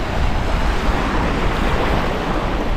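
Water rushes and surges steadily along a Lake Michigan beach at Indiana Dunes, a loud, continuous broadband wash of surf with wind noise and no voices.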